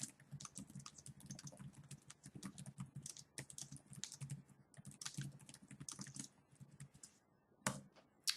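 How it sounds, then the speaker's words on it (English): Fingers typing on a computer keyboard in irregular bursts of quick clicks with short pauses, quiet and close, with no talking. "they click on add a note, and they type in information"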